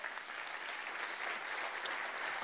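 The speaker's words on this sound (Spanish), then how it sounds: "Dale un aplauso más fuerte al Señor" Steady, dense applause from a large church congregation during a service, even and continuous throughout with no talking.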